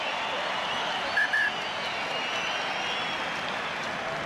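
A rugby stadium crowd at an All Blacks versus Australia test in Wellington applauds a substituted player, a broad distant wash of clapping and crowd noise that holds steady throughout.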